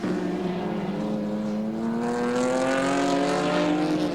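Touring race cars at Mallala circuit in 1989 scream past, a loud rising engine note climbing through the revs with a bright harmonic whine, close and sustained.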